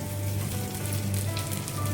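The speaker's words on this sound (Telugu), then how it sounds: "ఇప్పుడు ఈ మునగాకుని దీంట్లో వేసి వేపుకోవాలండి." Moringa leaves fry in hot oil in a pan with a steady, dense sizzle, close and continuous throughout with no voices.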